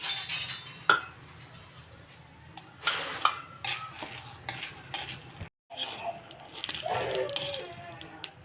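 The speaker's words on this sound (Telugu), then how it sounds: "కళాయి హీట్ అయ్యాక పావు కప్పు పల్లీలు వేసుకొని స్లో టు మీడియం ఫ్లేమ్లో పెట్టుకొని బాగా వేయించుకోవాలి" Peanuts dry-roasting in a heated kadai over low to medium flame, stirred so the nuts clink and rattle against the metal in irregular bursts, with a brief pause midway and soft background noise throughout.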